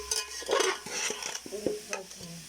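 Vegetables stir-frying in oil in a pan, with short scraping stirs and bursts of sizzle repeating at close range for a couple of seconds, and no voices.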